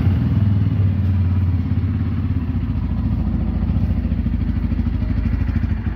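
A motorcycle cold-started, with a brief cranking whine followed by the engine catching into a loud, close, steady chugging idle that runs for several seconds without talk.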